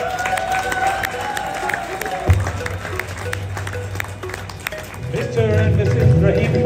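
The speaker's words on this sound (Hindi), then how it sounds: "तो ख़वातीन हज़रात, अपनी तालियों के गूंज में" Audience applause and crowd noise at a Pakistan Independence Day ceremony held at a hotel in Utah, a steady wash of clapping that swells toward the end, with a loud hall hum and music-like tones underneath.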